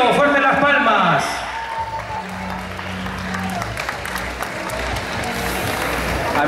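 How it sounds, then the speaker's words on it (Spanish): A voice speaks briefly, then a crowd at a gastronomy festival breaks into applause that continues steadily to the end, with a low hum underneath. "Fuerte las palmas."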